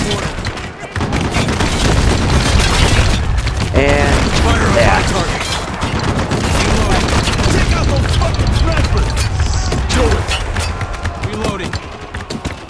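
Gunfire and explosions from the Spec Ops: The Line video game, dense continuous shooting with booming blasts and mechanical clatter, loud throughout, with voices calling out over the battle.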